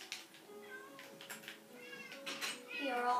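Cats meowing in the Minecraft video game, several repeated mews at close range, with a voice speaking faintly underneath.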